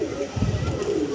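A pair of pigeons coos in a short, soft, low burst up close, heard briefly and fairly faintly.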